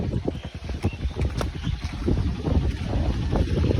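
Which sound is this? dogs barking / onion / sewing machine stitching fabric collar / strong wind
strong wind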